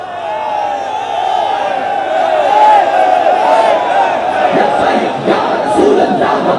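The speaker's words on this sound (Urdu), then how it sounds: "یہ دیکھو ہمارے MNA MPA کیسے جناب لبیک کے نعرے لگا رہے ہیں" Members of the Punjab Assembly chanting Labbaik slogans in unison, a loud sustained crowd of voices rising and swelling together in a large chamber.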